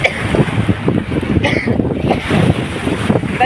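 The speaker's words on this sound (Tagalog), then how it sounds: "Nakita nyo naman yung alon na yan, napakalakas." Strong wind and big waves around a small boat at sea, a loud, steady roar of gusting wind over the microphone with surging water beneath, continuous throughout.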